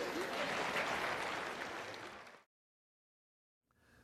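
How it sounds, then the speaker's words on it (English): A classroom audience applauds after a trading lesson, dense clapping for about two seconds that fades and cuts to silence, then faint room sound returns. "Give him a round of applause."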